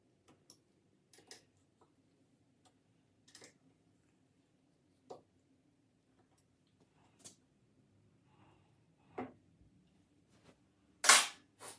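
A hand wrench snugs bolts on a flat track Harley-Davidson Sportster chassis, giving sparse, sharp metallic clicks and ticks separated by quiet gaps, ending in a louder clack.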